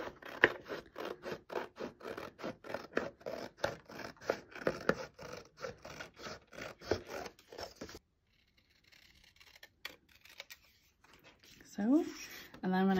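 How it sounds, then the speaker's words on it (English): Scissors cutting paper along lines for a pop-up box, with a quick series of crisp rhythmic snips close up, then a short quiet pause and a few more rustling cuts. "I'm just gonna cut along all of the solid lines."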